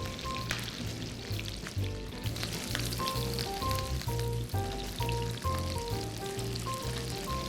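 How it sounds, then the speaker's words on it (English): Salmon fillets sear skin side down in a hot pan, giving a steady close-up sizzle and crackle throughout with faint utensil clicks. "I'm going to go skin side down first. Nice little sizzle."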